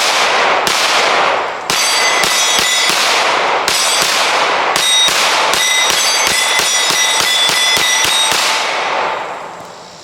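Rapid pistol gunshots from a Springfield Armory Echelon at a shooting range: loud, sharp, ringing cracks in quick strings of shots, some close together and some spaced, with metallic ringing between them and no talk.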